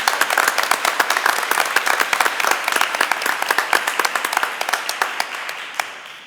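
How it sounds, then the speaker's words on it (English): A round of applause at a board of education meeting, many hands clapping together in a steady, fairly loud burst that gradually fades out. "So a big round of applause and a big congratulations."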